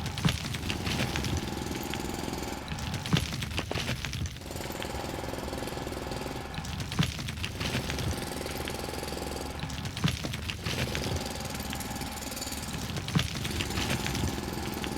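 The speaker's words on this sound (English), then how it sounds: "so we need our drill. We just drill some ore." A mining drill chews through ore in the factory-building video game Foundry, a loud, steady, grinding jackhammer-like rattle with a regular pulse repeating about every three seconds throughout.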